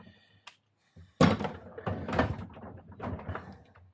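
Wooden or metal drawer sounds in a workshop: a few sharp knocks and sliding clatters as the drawer is pulled open and pushed shut, close and fairly loud with rummaging between.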